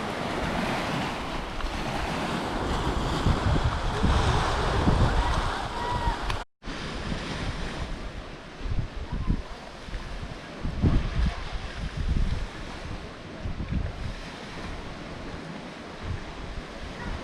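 Sea waves wash steadily onto a beach at Sığacık, Izmir, with heavy wind buffeting the microphone throughout and a brief dropout partway through.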